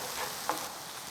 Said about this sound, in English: until the garlic and onions are turning brown.